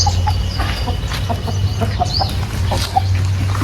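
Close clucking from a Peruvian fighting rooster on a farm: a run of short, repeated clucks over a steady low hum, with no talking.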